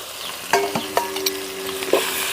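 Half a kilo of washed chicken goes into a hot pan over a wood fire and sizzles steadily, with a few sharp clinks and scrapes as it is stirred.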